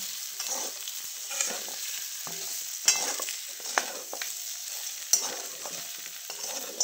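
Dry mutton curry sizzling steadily in a pan while a spoon stirs and scrapes it, soft repeated clatters over a constant frying hiss, close.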